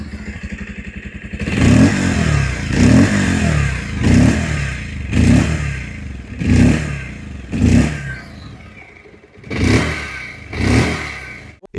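A Bajaj Pulsar 150 motorcycle, 2026 model with its stock exhaust, is revved repeatedly up close: about eight sharp throttle blips rise and fall in a steady rhythm, each with a loud exhaust bark over the idle.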